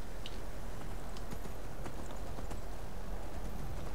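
Horse hooves clip-clopping in the Skyrim video game, a steady run of hoofbeats over a constant rumbling ambient bed, with no voices present.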